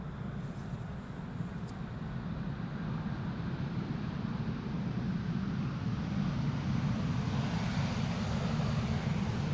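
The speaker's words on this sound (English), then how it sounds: "This is EasyJet, flight 27850, arriving from Birmingham." An EasyJet Airbus A320neo arrives at Amsterdam Schiphol from Birmingham, a continuous low engine rumble and rushing air that grows slightly louder over the stretch, with light wind noise.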